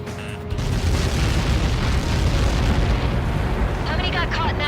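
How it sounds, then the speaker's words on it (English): A Helios projectile impact explosion in the flight combat game Ace Combat 7: Skies Unknown. It is a loud, sustained rumbling blast that fills the whole clip, with a faint electronic chirping near the end. "How many got caught in that explosion?"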